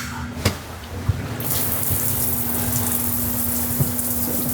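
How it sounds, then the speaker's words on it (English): Rain shower on a catamaran's helm deck gushing steadily after being switched on, a broad continuous hiss of falling water that holds steady to the end, with a few faint knocks near the start. "One of my favorite features, the rain shower right here."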